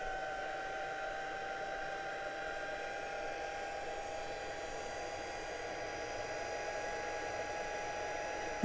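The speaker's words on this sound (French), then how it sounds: "Et donc on va embosser avec le fer qui est là. Donc désolé pour le bruit" Heat embossing tool running while heating up, used for card embossing, a continuous even blowing whir with a steady whine, constant and fairly close throughout, no voices.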